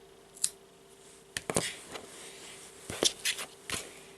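Crisp snips of scissors cutting a Christmas friendship bracelet cord, several separate close clicks spread over a few seconds, some in quick pairs, in a quiet room.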